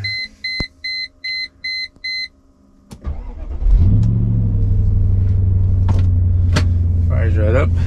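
A car's electronic chime beeps several times in a steady series, then the engine cranks and fires right up into a loud, steady idle rumble with a few clicks on top.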